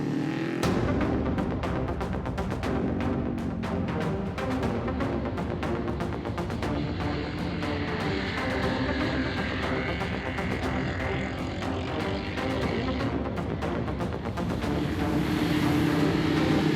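KTM RC8 motorcycle engine pulling hard out of corners from low revs, a constant loud rumbling drone heavily mixed with wind buffeting, heard from on the bike with no talk.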